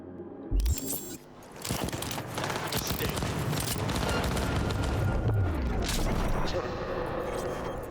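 Gunfire from a newly acquired gun in Cyberpunk 2077 rattles almost continuously after a few opening blasts, with dense rapid shots and booming impacts under occasional speech.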